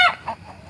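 Rhode Island Red broody hen sitting on eggs gives a short, loud honking cluck at the start, then a fainter second call, close by with no talk.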